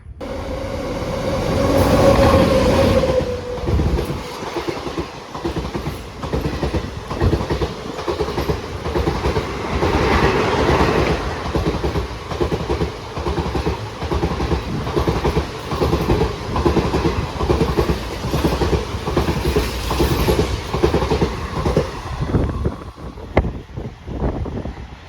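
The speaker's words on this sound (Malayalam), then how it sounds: "226/10 number Mangalore central intercity super fast express ആണ് ഇപ്പോൾ പോയത് കേട്ടോ." The Mangalore Central Intercity Superfast Express rushes past a station without stopping, a loud, close, continuous roar of wheels with steady clickety-clack rhythm and wind buffeting the microphone throughout.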